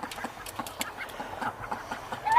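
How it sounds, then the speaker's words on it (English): Farmyard ducks quack repeatedly in short, irregular bursts close by, a lively chorus of nasal calls over light background noise. "The ducks up in their new location out of the house."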